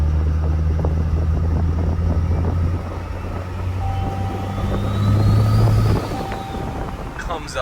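A truck engine rumbles steadily as the driver rolls on the throttle after a shift into fourth, a low drone that swells briefly before easing off, with talk over it.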